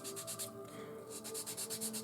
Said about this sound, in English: I'm sanding and I'm cleaning this part of the wing